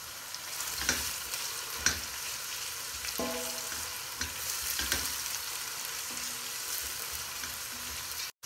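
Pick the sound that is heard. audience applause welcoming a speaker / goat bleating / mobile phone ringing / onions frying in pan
onions frying in pan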